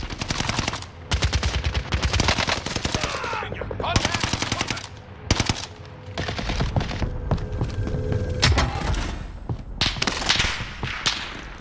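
Rapid automatic gunfire in a shooter game, long rattling bursts broken by brief pauses, loud and close, with scattered heavier shots throughout.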